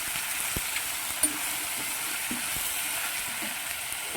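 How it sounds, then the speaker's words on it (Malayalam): Potato pieces fry in hot oil for a vegetable kurma, giving a steady, close hiss with faint crackles and a few soft stirring knocks, with no voices over it. "ये 2-3 मिनट ये तेल में हम पकाएंगे"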